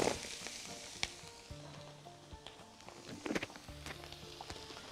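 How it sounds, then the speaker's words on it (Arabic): Duck breast laid skin-side down in a hot, dry pan with no added fat, giving a steady broadband sizzle with scattered pops and light utensil clinks, close and moderately loud. "هناخده ونحطه على الطاسة السخنة من غير ولا أي دسم خالص، هو هينزل دسم كتير"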